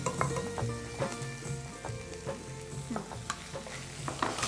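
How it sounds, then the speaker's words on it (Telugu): Spices and ginger-garlic paste fry in a pan in a Telugu TV kitchen, giving a steady close sizzle broken by repeated scraping stirs, with no voices. "ఇప్పుడు వీటిని బాగా వేయించుకోవాలి."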